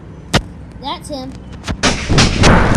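Gunshots from a mobile shooter game: one sharp bang early, a short electronic chirp, then more heavy blasts building into a loud, sustained burst near the end.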